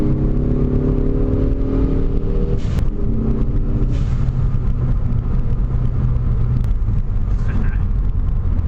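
A Ford Focus ST hatchback pulls hard under acceleration, its engine note rising steadily in pitch before shifting and climbing again, loud and close from inside the cabin with a steady broadband road roar beneath.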